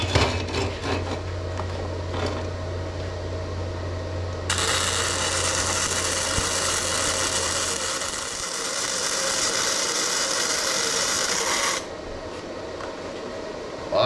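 A welder runs on thin sixteenth-wall rectangular steel tubing, giving a steady loud crackling hiss that holds for about seven seconds after a stretch of lower machine hum and clatter, then drops back to a quieter drone.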